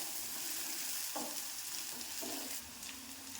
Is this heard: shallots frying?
yes